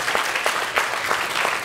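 Audience clapping at a Q&A talk: a steady patter of hands with distinct sharp claps recurring at a moderate pace, moderately loud and without speech.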